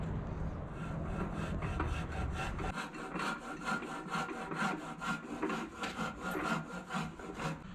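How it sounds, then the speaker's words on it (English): A wood rasp files cured Bondo body filler smooth over lumpy weld, with a steady run of close, rhythmic scraping strokes. "I'm going to use a wood rasp and get it rough to shape"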